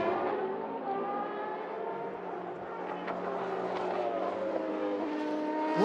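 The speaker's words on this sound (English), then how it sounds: "We've got an engine that sounds like that." A Le Mans race car engine drones at high revs with a steady, layered harmonic whine that shifts slightly in pitch and swells a little toward the end.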